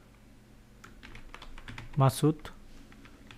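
Typing on a computer keyboard during an HTML coding lesson: a loose run of quiet, close key clicks, briefly interrupted by a short spoken word.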